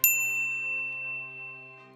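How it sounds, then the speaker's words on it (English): A single bright notification bell dings once, sharp at the start, then rings on as a clean tone that slowly fades over about two seconds. "ring the bell to get notified about our latest videos"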